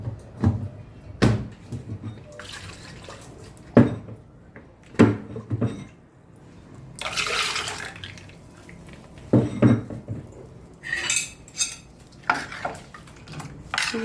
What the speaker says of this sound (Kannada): ಸ್ವಲ್ಪ ಮಿಕ್ಸಿ ತೊಳೆದು ಬಿಟ್ಟು ನೀರು ಹಾಕ್ಬೋದು